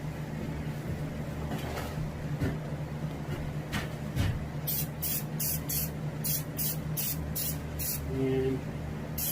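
After a few soft knocks, a spray can hisses in a series of short, rapid bursts while mounting a striped bass, over a quiet background hum.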